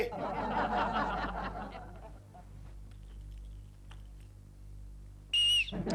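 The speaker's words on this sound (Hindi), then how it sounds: "सीटी कौन बजा रहा है?" After a stretch of chuckling and murmured voices, one short, shrill whistle blast rings out loud and close near the end.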